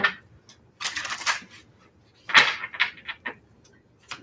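Tarot cards being shuffled by hand in a quiet room, heard as several short bursts of riffling and slapping, a longer run near the start and another cluster later, with pauses between.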